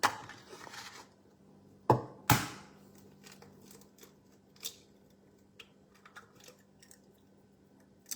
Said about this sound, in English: I'm going to crack those in here now